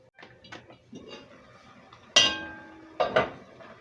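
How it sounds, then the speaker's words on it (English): A metal lid is set onto a pot of Italian pastina soup on the stove, giving two sharp clanks about a second apart, close and clear, with light kitchen clatter just before them. "So we're just going to put the lid on this and just let that cook down a little."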